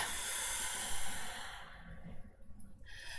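Deep, slow breaths fill a quiet yoga session: a long airy inhale flows into a drawn-out exhale, close and breathy, with no talking over it.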